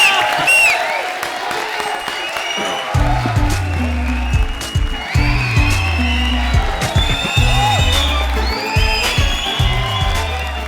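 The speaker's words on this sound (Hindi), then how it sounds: "जोरदार तालियां हो" Studio audience on a comedy show breaks into loud applause and cheering, clapping and whoops sustained for several seconds in bursts, with music beats and talk underneath.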